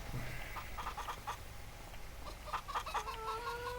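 Chickens by a coop in Farming Simulator 25, clucking in short bursts near the start and again toward the end, with one drawn-out squawk, over a low steady background, no talk.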